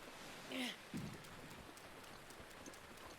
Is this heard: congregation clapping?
no